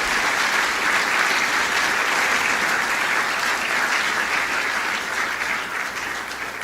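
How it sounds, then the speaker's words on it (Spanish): A church congregation applauds during a sermon, a dense, loud wash of clapping from many hands that holds steady and eases off slightly toward the end. "Denle un aplauso a Jesús."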